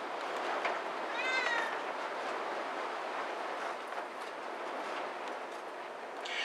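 A farm cat lets out a single short meow near the start, set against a steady wash of outdoor wind and wind-turbine noise that runs through the whole stretch.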